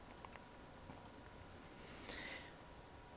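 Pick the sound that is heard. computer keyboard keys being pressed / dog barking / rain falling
computer keyboard keys being pressed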